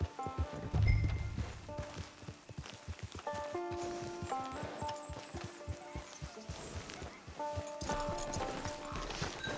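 A horse in Red Dead Redemption 2 walks at a steady clip-clop, hooves thudding in even rhythm under a soft, tonal game music bed, with no talk.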